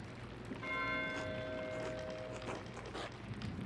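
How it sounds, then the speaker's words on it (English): A church bell rings in the video game Pentiment, one faint ringing strike with long sustained overtones that fade over a few seconds against a soft ambient background. "Why is Matthew ringing the bell?"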